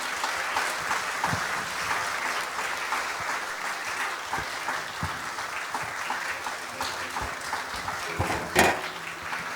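A crowd at a Korean church worship service applauds continuously, a broad wash of clapping with occasional louder claps standing out, fairly close and sustained throughout.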